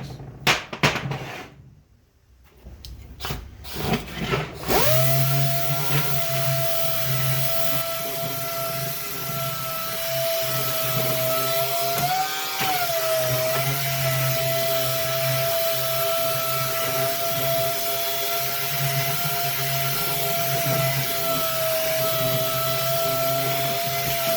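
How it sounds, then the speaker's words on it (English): Dual-action sander running steadily on the metal steering shaft of a 1938 Ford truck's custom steering column, a loud continuous whir that starts abruptly after a few seconds of quieter noise, with one brief pitch dip midway. "all I did was just kind of hit it with my DA sander"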